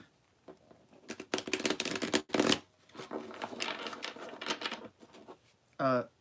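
Tarot cards are shuffled in rapid riffling bursts with clattering against a tabletop, loud and close, ending with a short buzzy flutter.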